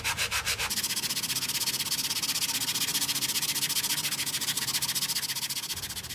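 Sandpaper scrubs the heavily rusted flywheel of a Kohler 149cc XT engine on a Lawn-Boy AWD mower, a steady, fast back-and-forth rasping rhythm heard close and continuous with no talk.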